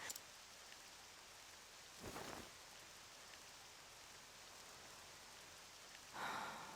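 Steady rain falls in the video game Octopath Traveler 2, a faint even hiss with two brief brighter swells like distant rumbles, with no talk.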